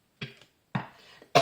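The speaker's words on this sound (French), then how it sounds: "Excusez-moi pour la toux." Three sharp, harsh coughs from one person at close range, the last one abrupt, with short silent pauses between them and no talking.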